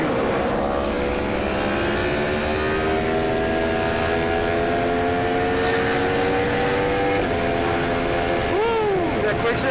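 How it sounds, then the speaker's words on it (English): Two Yamaha FZ-10 motorcycle engines rev together on a group ride, their tone climbing steadily over several seconds before dropping and swooping back up near the end, loud and close throughout. "Hearing both of these engines together, oh, it's beautiful."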